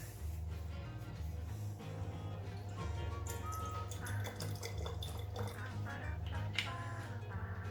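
Cider vinegar is poured during home meal prep, giving a faint trickle and scattered drips over a low steady hum.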